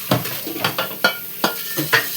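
A dal tempering sizzles in a pan while being stirred, with rhythmic scraping spoon strokes about every half second over a light frying crackle, close and clear.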